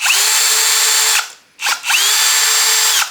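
Power drill unscrewing screws from the panels of an LG commercial floor-standing air conditioner during disassembly, two sustained whirring runs of about a second each separated by a brief pause, loud and close with no talk.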